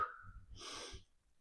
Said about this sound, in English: as you bring your knee up, I want you to exhale